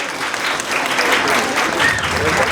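Applause from a school audience at a Moving Up Day ceremony, cheering standing 5th graders; steady, dense clapping from a crowd that holds evenly throughout.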